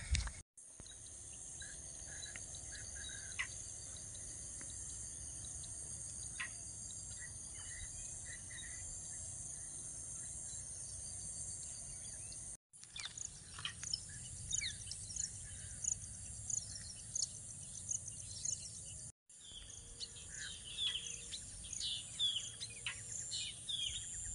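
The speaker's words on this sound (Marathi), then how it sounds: "जे आता तुम्ही आवाज बघितलेले आहात ते वेगवेगळ्या पक्ष्यांचा आहे" Many small birds of various species chirp and call at a distance in a village forest in the morning, over a constant buzz of insects, with the scene cutting abruptly a couple of times.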